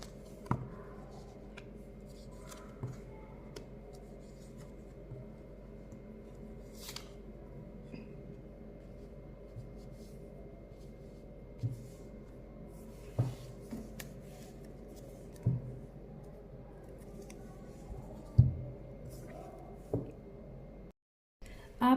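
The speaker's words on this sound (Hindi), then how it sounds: "और कार्ड निकाल देती हूँ।" Tarot cards being shuffled and drawn, soft papery flicks and light taps scattered sparsely over a quiet room tone, with occasional faint voice.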